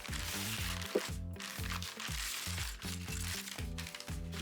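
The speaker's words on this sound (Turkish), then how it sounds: "Kutuya çok zarar vermeden açmaya çalışıyorum." Crinkly plastic and cardboard rustle and crunch in bursts as a LEGO 43033 set box is carefully opened up close.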